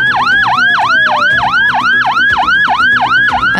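A Cruz Verde ambulance siren wails in a fast, loud repeating up-and-down yelp, close by and steady, with no voices over it.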